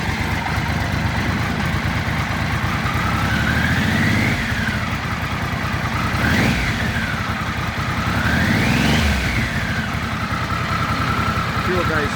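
A 1996 Triumph Trophy 900 motorcycle engine runs steadily close by, with three rising and falling revs blipped over a continuous idle, while a person talks over it.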